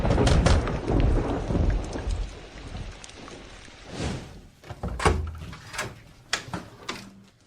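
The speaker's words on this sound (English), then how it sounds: "It's raining outside." Steady rain falling outside with rumbling thunder, heavy and continuous at first, then easing into quieter patches broken by several sharp, near cracks and bursts toward the end, with no talking.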